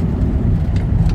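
Engine of an old Honda Civic with Hondamatic transmission pulling under acceleration as the carburetor's second barrel opens, a steady low rumbling drone heard from inside the car.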